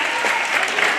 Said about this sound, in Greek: Πρώτα απ' όλα θέλω ένα θερμό χειροκρότημα για τα παιδιά του Μουσικού Σχολείου.